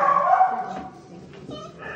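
Puppies yip and bark in a couple of short, close, high-pitched bursts, with a softer whimper trailing between them and no talking.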